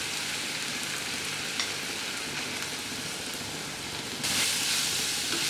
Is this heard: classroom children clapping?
no